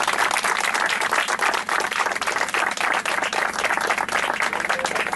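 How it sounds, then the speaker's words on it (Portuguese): An audience at the Terceira Island Cup legal drag-racing awards applauds Walter Nunes, the first Portuguese champion, with dense continuous clapping at a steady level for the full five seconds, no voices over it. "acho que merece uma salva de palmas especial"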